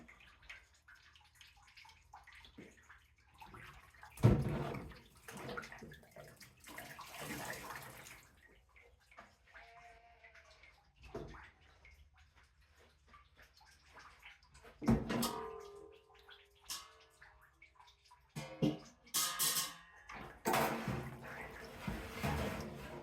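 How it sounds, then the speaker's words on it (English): Water trickles and splashes out of milking machine claws as they are drained, intermittent bursts of pouring and dripping separated by quiet pauses, close and fairly soft. "I always drain them out, and then I take the pulsator off and drain the water out of the pulsator"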